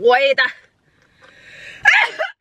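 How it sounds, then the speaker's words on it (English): A voice speaks briefly, then after a short pause comes a sudden loud sneeze close to the microphone. "That was a sneeze from like my chest."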